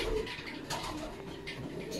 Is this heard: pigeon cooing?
yes